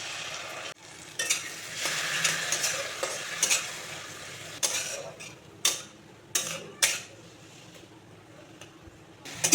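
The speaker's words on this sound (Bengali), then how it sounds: "আর এখন এতে টমেটো পেস্ট দিয়ে দিচ্ছি।" Tomato paste sizzles and fries in spiced oil for a Bengali doi katla curry, with a spoon scraping and stirring in repeated sharp clinks against the pan over a steady close hiss.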